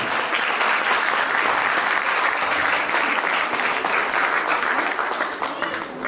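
Loud, dense applause fills a gathering at an Arya Samaj Mandir, a steady wash of clapping from a crowd lasting several seconds before tapering slightly.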